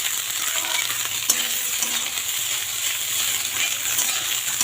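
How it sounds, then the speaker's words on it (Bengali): Cooked rice stir-fried in a hot pan for a breakfast dish, with a steady close sizzle broken by light clinks and scrapes of a spatula, no voices. "ভালো করে ভেজে নেব নাড়িয়ে চাড়িয়ে"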